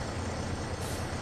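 Truck engine with an air brake hiss in Farming Simulator 22, a loud, steady broadband rumble and hiss filling the whole brief moment.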